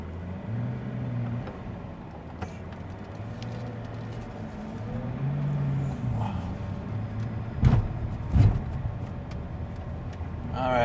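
A Pagani supercar drives along with a low engine drone and shifting gears, heard from inside the cabin, with a couple of sharp thumps and some faint talk.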